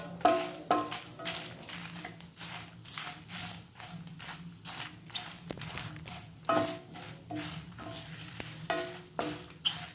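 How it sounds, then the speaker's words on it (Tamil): Dried chillies and coriander seeds dry-roasting in a pan, with repeated scraping stirs and light rattling of seeds in an irregular rhythm, close and fairly quiet, no talking. "மிளகா, தனியாலாம் நல்லா வறுபட்டு போச்சு"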